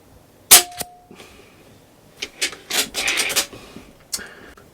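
A Snowpeak M60 .22 (5.5 mm) air rifle fires a sharp, close snap, followed by rubbing and mechanical handling noises as the gun is worked, with a few more clicks later; no talking.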